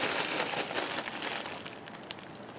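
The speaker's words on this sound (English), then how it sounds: "So I'll go ahead and open up the plastic here." Plastic wrapping crinkles and crackles steadily as a Rev'it! Upsilon motorcycle jacket is pulled from its bag, a close, continuous rustle with scattered sharper crackles throughout.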